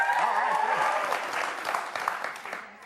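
Studio audience cheering and clapping in a radio-show setting, a broad wash of applause that starts dense and loud, then thins and fades, with a talking voice layered over the start.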